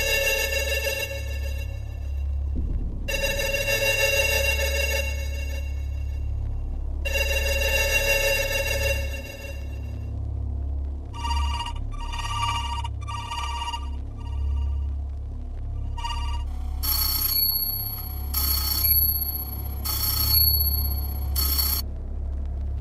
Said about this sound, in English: We gave him a good 56 seconds of distorted phone signals.